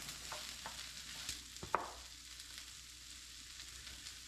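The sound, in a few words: butter sauce cooking down in a pan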